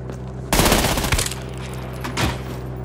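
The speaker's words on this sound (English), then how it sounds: "at least this SMG has given me a lot of ammo" Rapid SMG fire in the shooter Trepang 2, a loud dense burst of automatic shots erupting after a brief quiet start, then a second shorter burst near the end.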